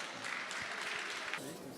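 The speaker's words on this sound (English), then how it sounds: "Please give them a warm round of applause." An audience at a resuscitation congress CPR competition applauds an arriving team, a brief burst of dense clapping that cuts off abruptly near the end.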